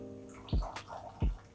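Water pours from a container into a pot of coconut butter for caramel popcorn, a short soft splash followed by a second brief glug, quiet and close.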